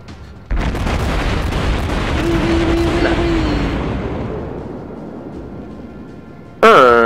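In the game World of Warships, a big warship cannon boom hits, then a long rolling rumble fades slowly before another sharp blast at the end; a voice briefly sounds mid-rumble.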